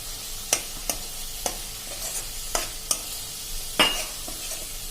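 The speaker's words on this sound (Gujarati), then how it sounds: "તો ટમેટાની ગ્રેવી સાથે સાથે આપણા મસાલા પણ સંતળાતા જાય છે." Tomato gravy and spices sautéing in oil for a potato and pea curry, a soft continuous sizzle broken by sharp scraping clicks of stirring, roughly one every half second.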